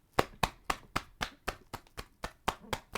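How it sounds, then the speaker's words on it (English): Hands clap in a steady, evenly spaced rhythm, crisp and fairly close, as a small audience applauds a retiring baseball player's career during a baseball talk show. "Let's give another round of applause."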